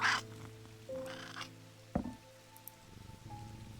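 A cat in a video game purrs softly and steadily, a faint low rumble under quiet ambient game sounds with a few clicks and soft tones.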